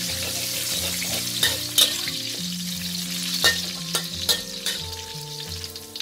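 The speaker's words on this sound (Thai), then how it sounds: "รอให้น้ำมันร้อนค่ะแล้วเราก็ใส่กะเพราค่ะ" Holy basil leaves frying in hot oil in a pan over medium heat, a steady crackling sizzle with sharp spitting pops and the occasional scrape of stirring, no voices.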